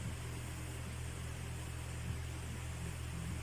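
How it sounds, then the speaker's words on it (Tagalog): An electric fan running steadily in a room, a close, constant whirring hum with airy hiss and no change in pitch, alone with no talking. "So, pasensya na sa tunog ng electric fan."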